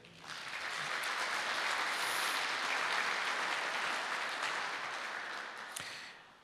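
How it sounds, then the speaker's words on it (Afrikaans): A church congregation claps for Annika on her birthday, a dense, steady wash of many hands swelling in and fading out over several seconds, moderately distant and without speech. "Kan julle gou vir haar hande klap gee?"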